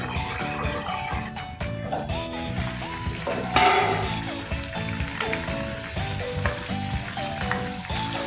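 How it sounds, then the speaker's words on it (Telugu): Brinjal fries in oil in a pan under a lid, a steady, loud sizzle with crackling bursts running throughout, without any speech. "ఇట్లా మూత పెట్టేసి రెండు నిమిషాల పాటు వేయించుకోవాలి"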